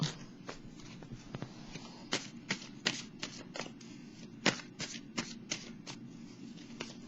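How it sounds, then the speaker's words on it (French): Tarot cards are shuffled by hand to draw one, giving a quiet, close series of crisp riffles and slaps in an uneven rhythm over a low room hum, with no talk. "Je vais piger une carte, un message de l'univers."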